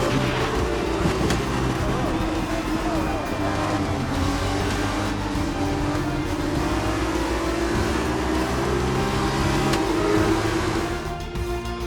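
An F2 racing car in the F2 2021 video game drives on at a steady engine pitch with a continuous high whine and road rumble, while someone talks over it.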